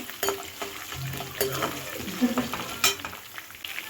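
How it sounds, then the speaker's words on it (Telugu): Green chillies and ginger fry in hot tempering oil with a soft sizzle, broken by a few stirring scrapes and clinks of a spoon in the pan, close and quiet. "అల్లం వేగిపోయిన తర్వాత పచ్చిమిర్చి ఒక ఐదు పచ్చిమిర్చి నేను మజ్జిగ చీల్చుకుని వేసుకుంటున్నాను"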